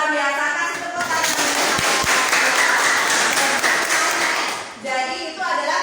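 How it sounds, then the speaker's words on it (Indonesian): Classroom students clapping together during an Islamic religious education lesson, a loud, busy burst of many hands with a couple of sharper knocks, and voices audible at the start and end. "Kasih tepuk tangan."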